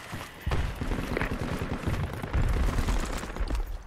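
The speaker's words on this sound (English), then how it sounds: "There is some friendly stupid asshole shooting at me here." Gunfire in the military shooter game Project Reality comes as rapid bursts of shots, dense and rattling, fairly close and continuing throughout.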